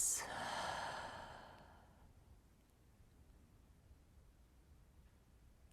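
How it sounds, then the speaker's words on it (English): A single slow breath during a meditation: a soft, airy inhale-exhale close to the microphone fading out over a couple of seconds, followed by near silence. "And take a slow inhale. Exhale with ease."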